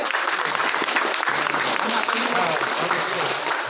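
Divyang (disabled) schoolchildren clap together at a school event honouring Louis Braille, a steady, fairly loud wash of applause across the whole moment, with some voices mixed in.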